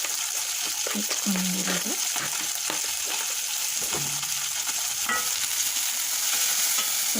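Ginger garlic paste fries in a pan with a continuous sizzling hiss, broken by stirring scrapes and a few brief clanks, while a voice briefly speaks over it.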